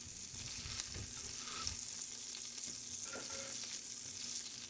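Chopped green chillies fry in a pan for a vegetarian paneer dish, making a faint, steady sizzle with occasional light stirring taps, close and without speech.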